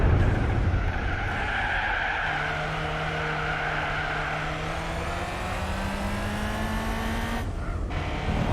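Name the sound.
race car drifting with tyre squeal in Gran Turismo 4 video game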